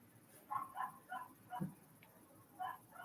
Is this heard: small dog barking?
yes